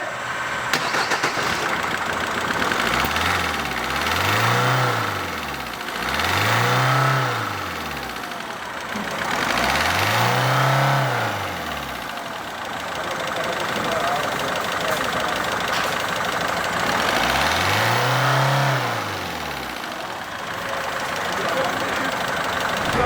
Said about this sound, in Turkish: Bir marş yapalım. Aracın sesini duyalım.